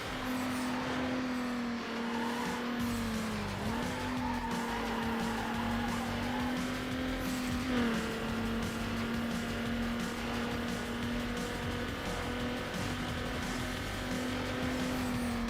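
The Hyundai Coupe's engine in the Need for Speed Underground racing game holds a steady, sustained drone with small pitch shifts, loud and continuous, with faint tire-squeal texture and no voices.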